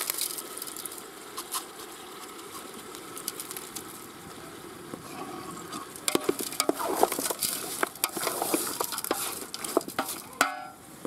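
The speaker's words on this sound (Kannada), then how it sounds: "ಸ್ವಲ್ಪ ಫ್ರೈ ಆಗಲಿ ಒಂದು ಸ್ವಲ್ಪ ಎಣ್ಣೆಯಲ್ಲಿ" Onion and masala ingredients frying in a little oil in a pan for a village-style chicken curry with field beans, soft continuous sizzling broken by scattered stirring and utensil clatter that grows busier midway.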